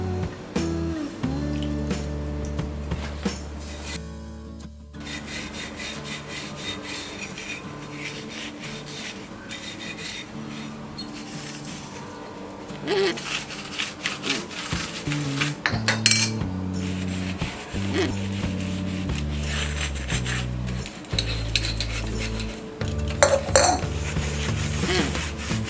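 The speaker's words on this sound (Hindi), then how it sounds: "अब हम सारे बर्तन को लिक्विड डिश वॉश से क्लीन करेंगे।" Brass pooja vessels being scrubbed clean with liquid dish wash, giving steady rasping and rubbing with metallic clinks and clanks of pots knocking together, close and continuous, with no talking.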